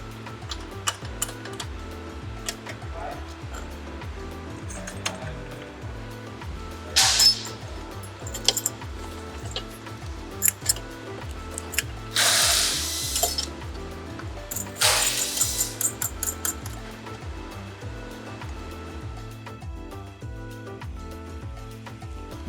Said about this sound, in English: we're going to reinstall the axle nut, but kind of leave everything loose, just snugged up